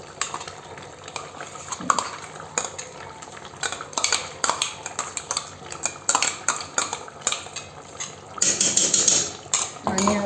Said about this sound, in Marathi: आणि आता ही एकजीव मध्ये करून घ्यायची अशी वर खाली.